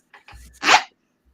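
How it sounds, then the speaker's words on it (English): A quick, close zipper pull, two short scraping strokes ending in a louder rasp, then silence. "Was that zipper being pulled up"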